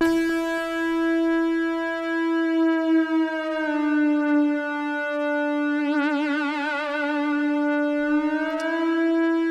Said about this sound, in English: So that is just one single note, it's E. And what I've done here is I've pitched it with I pitch shifted it with the wheel